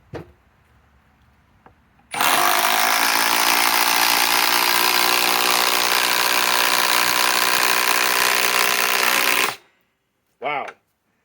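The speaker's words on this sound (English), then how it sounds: "Let's run them on these little 5-inch lags." Metabo HPT triple hammer impact driver sinking pre-drilled 5-inch lag bolts, one loud, sustained buzzing hammer run of about seven seconds, starting abruptly after near silence and cutting off sharply, followed by a brief squeal-like burst.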